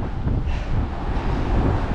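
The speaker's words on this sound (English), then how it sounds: "The wind is constantly changing direction." Strong coastal wind buffets the microphone while cycling along the shore, a steady loud low roar with rumbling gusts and no talk.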